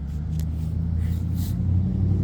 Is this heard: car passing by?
yes